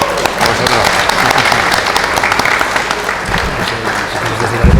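Steady applause from a crowd, many hands clapping continuously at close range, with a few voices faintly mixed in.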